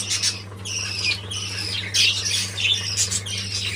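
Caged bird chicks call in a nest box, with repeated high squawking bursts fairly close and moderately loud over a steady low hum, no talking.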